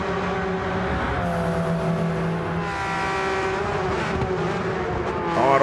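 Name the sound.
race car braking into turn one at Fuji, racing video game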